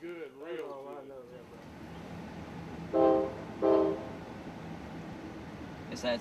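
A train whistle sounds near the Whistle Stop Cafe at the Jarrell Plantation Historic Site, two loud horn blasts a moment apart that follow a stretch of talking over faint background rumble.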